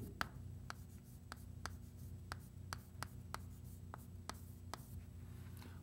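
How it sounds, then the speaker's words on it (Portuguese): Math is written on a board with chalk. Regular, sharp taps and short strokes come every half second or so, fairly faint and close over a low background hum. "Vou escrever isso aqui."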